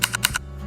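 Computer keyboard keys pressed in a quick cluster of four clicky taps, close and clear, then a short quiet tail with no voice.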